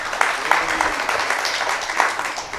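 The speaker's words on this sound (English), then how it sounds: "I think everyone should give Anna a quick applause." An audience at an evening business talk gives a guest speaker a brief round of applause, moderate clapping from a small-to-medium crowd at a steady level throughout.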